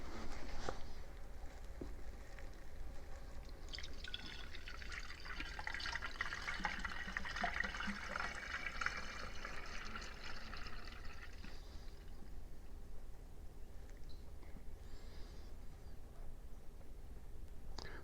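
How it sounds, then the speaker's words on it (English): Coolant pours into the cooling system of a VW TDI engine during a thermostat replacement, a faint steady trickle and gurgle of liquid filling for several seconds before tapering off. "Finally, refill with coolant."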